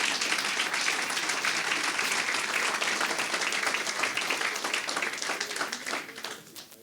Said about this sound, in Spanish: Aplausos al Señor